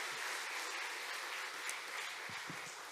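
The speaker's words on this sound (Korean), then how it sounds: "우리 교육자 또 부장님, 선생님들을 위해서 박수 한번 주세요" A church congregation at a summer education-department showcase claps together, a sustained, even roar of many hands heard from some distance, with a couple of low thumps near the end.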